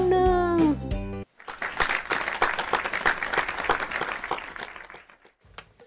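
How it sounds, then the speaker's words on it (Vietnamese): Guests at a staged doll wedding party clap, giving several seconds of lively, dense applause after a brief voice and music opening, then fading out. "mọi người hãy cho một tràng pháo tay để chúc mừng đám cưới hạnh phúc"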